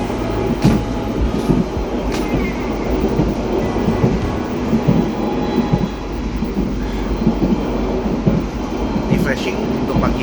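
Sembrani Luxury passenger train running with a steady rumble and repeated clickety-clack of wheels over rail joints, heard from inside the carriage throughout.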